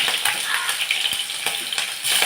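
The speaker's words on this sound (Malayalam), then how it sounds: "നമ്മൾ അതിനകത്ത് ആദ്യം സവോള ഇഞ്ചി ഒക്കെ ഇടാം അതൊന്ന് വഴന്ന് കഴിയുമ്പോൾ" Onion and ginger sauté in a hot pan for a fish-style curry made without fish, with a continuous bright sizzle and light stirring scrapes up close and no talk.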